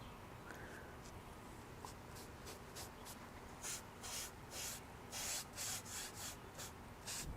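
A brush scrubs convertible-top fabric in short, rhythmic rasping strokes. The strokes are quiet and close, and they grow more pronounced toward the end.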